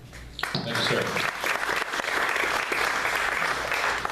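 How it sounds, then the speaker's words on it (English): A debate audience at a 2016 congressional debate bursts into applause, a dense, loud clatter of many hands clapping that starts sharply and holds steady throughout. "I'd ask going forward that you hold your applause until the end of the debate"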